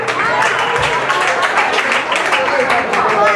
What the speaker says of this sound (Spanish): Así que pido un fuerte aplauso para Mirta